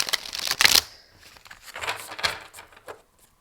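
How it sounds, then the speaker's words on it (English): Stiff oracle cards are riffle shuffled by hand, giving a sharp burst of rapid flicking clatter followed by softer rustling and tapping as the deck is squared up. "These are quite difficult to riffle shuffle, but I'm going to try."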